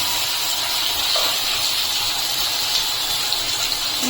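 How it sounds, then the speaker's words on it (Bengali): Chopped onion and garlic frying in hot oil, an even, close hiss of sizzling that holds steady throughout without talk. "হালকা একটু ভেজে নেওয়ার পরে আমি দিয়ে দিচ্ছি পেঁয়াজ কুচি"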